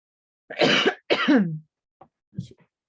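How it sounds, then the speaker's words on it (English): A person still recovering from COVID coughs twice in heavy, hoarse bursts, then gives two short, fainter throat-clearing coughs, close and loud with no talk. "I'm still coughing from having COVID."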